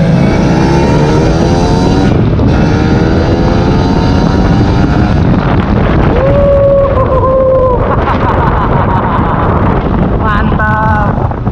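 A modified 2016 Kawasaki Ninja RR two-stroke motorcycle revving and accelerating hard, its engine note climbing and dropping through gears, loud and close with heavy wind buffeting throughout.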